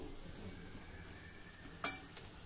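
A soft sizzle of onion greens sautéing in a pan, with one sharp metallic clink of a utensil near the end.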